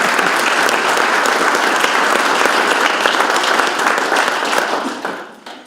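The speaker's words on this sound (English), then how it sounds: "I would ask for a round of applause for the Poors" An audience at a city State of the City address gives a loud, sustained round of applause that fills the room, then tapers off over the final second.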